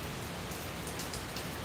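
Steady rain falls at an RC racetrack, a continuous even hiss with faint scattered drop ticks and no voices.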